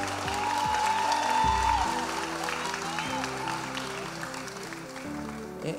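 A church congregation applauds and cheers to welcome a new children's ministry leader, a broad wash of clapping layered over steady music with low tonal notes throughout.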